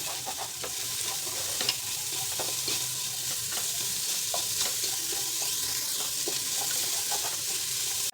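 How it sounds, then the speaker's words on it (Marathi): Two large sliced onions sauté in a pan with a steady, close sizzle, and intermittent stirring clicks carry through the whole stretch without any voices. "हे दोन मोठ्या आकाराचे कांदे कापून घेतले स्लाईस हलकासा परतू द्यायचा"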